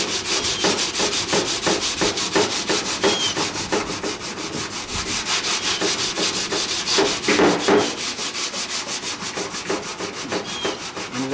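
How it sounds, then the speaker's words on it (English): Body filler on a Fiat Spider car body is hand-sanded in a continuous, loud, close rasp of rhythmic back-and-forth strokes with no voices. "And as I sand it, you just sand till it comes out."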